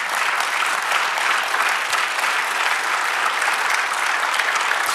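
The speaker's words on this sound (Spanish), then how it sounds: "Denle un aplauso al Señor." A church congregation applauds together during a sermon, loud, steady, dense clapping that fills the room for several seconds without speech.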